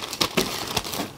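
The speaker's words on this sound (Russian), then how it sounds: "Вот так обломила листочек," A leaf sprout snapped off a gloxinia tuber by hand gives a few short, close, crisp cracks with light crinkling between them, no talk.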